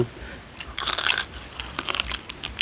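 Close, crisp crunching bites and chewing of freshly fried crispy pork belly, eaten alongside spicy Thai pounded rice noodle salad, with dense crackling bursts repeating over a couple of seconds.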